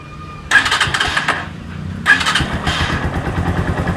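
A Keeway Cafe Racer 152 motorcycle engine cranks and fires up twice, each start a loud burst that settles into a steady, close idle.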